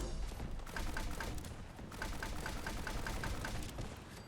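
An automatic grenade launcher in Fallout 4 fires a rapid string of evenly spaced thumps and booms in two volleys over a dense, rumbling battle background, loud and close.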